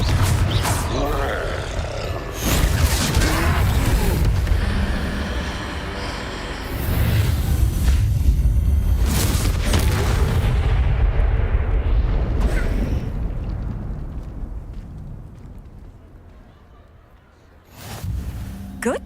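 Confringo spell blasts in the Hogwarts Legacy video game, a series of loud, rumbling explosive bursts with booming low end that swell and fade over several seconds, with voices grunting amid the game's clamor.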